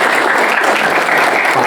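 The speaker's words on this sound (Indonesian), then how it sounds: "Tepuk tangan dong untuk" Applause for two teachers at a high school event, SMA N 2 Palembang: a dense, loud burst of clapping from a crowd, sustained and even throughout the short moment.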